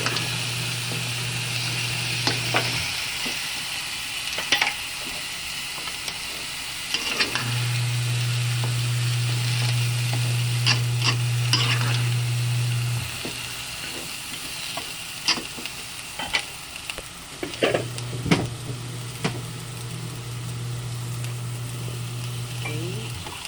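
Okra and mixed vegetables for pakbet sizzle in a pan while being stirred, a steady frying hiss broken by scraping clatters of the utensil, with a low motor-like hum coming and going underneath.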